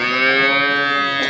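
A dairy cow at an Ambari cattle market in Dinajpur gives one long, loud moo close by, the steady voiced call filling the whole moment with no talk over it.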